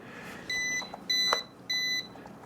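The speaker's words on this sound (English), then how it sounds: "the beeping is a lot less annoying" A Ruko F11PRO 2 drone controller beeps while connecting: three evenly spaced, high, flat electronic tones, each about a third of a second long, close and moderately loud, with faint background noise between them.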